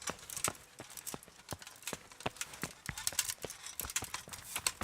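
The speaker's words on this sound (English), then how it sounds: "You are a beautiful horse." Horse hooves clop steadily in Kingdom Come: Deliverance, a brisk irregular series of sharp hoof strikes on the ground, fairly close and clear, continuing throughout with faint ambient noise between.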